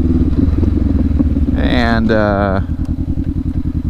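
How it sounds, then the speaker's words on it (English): A Honda CB500X motorcycle with an aftermarket exhaust idles near, with a rhythmic, throaty burble and irregular pops. Someone talks loudly over the middle of it. "I like the crackles. I like the gurgle. I like that throaty sound it gives me."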